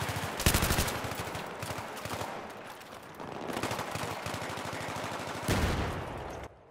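Automatic rifle fire in the video game Battlefield 3, rapid bursts of close gunshots in dense strings, with a sharp heavy blast near the start and another near the end.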